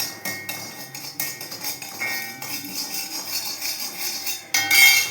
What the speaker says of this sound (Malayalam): ഉപ്പിട്ട് ഒന്ന് ഇളക്കുക.